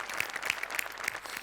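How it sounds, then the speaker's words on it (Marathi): Audience applause at a live Marathi comedy show, a steady wash of clapping from a studio crowd, dense and continuous throughout, with a few sharper individual claps standing out. "अशा टाळ्या वाजवायच्या"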